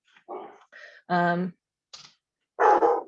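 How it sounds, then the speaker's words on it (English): A dog barks in short bursts near a person speaking, with the barks falling in the gaps between the talking. "I apologize for the barking dog if you can hear that."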